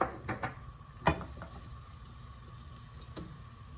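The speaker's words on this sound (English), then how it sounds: "stir fry the garlic and onions" Garlic and onions stir-fried in a pan, a few close clinks and scrapes of utensil on the pan over a faint, quiet sizzle, no speech.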